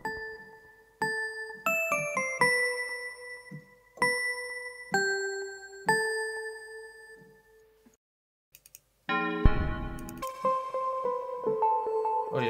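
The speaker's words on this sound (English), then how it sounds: "I said I was thinking of a bell type of sound." A bell-type synthesizer patch from Massive plays struck, ringing tones in a sequence of separate hits, each decaying slowly, then after a short pause a brighter, denser run of bell notes follows, loud and up close with no talking.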